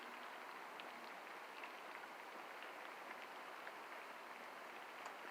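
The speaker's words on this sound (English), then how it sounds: "Yeah, it's been raining" Steady rain falls on a surface outdoors on a rainy morning, an even, continuous hiss with faint scattered drops, with no talking.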